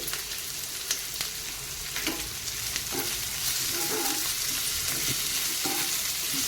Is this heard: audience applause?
no